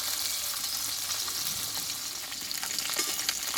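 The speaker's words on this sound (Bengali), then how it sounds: "মাছটা সুন্দরভাবে আমি একটু ভেজে নেব" Jiol fish frying in oil with turmeric, a constant bright hiss and crackle close by with a few sharper pops toward the end, no voices.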